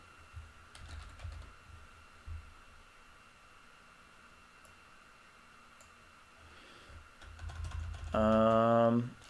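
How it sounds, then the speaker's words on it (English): Computer keyboard keys tapped in short scattered bursts, quiet and close, with longer gaps between them. A brief tonal sound swells near the end. "So I'm going to type in bookcase"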